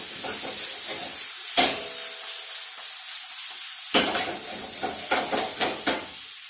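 Vegetables seasoned with kosher salt and pepper sizzle steadily in a pan with a constant bright hiss, broken by several louder bursts and scraping clatters as they are stirred; no voices.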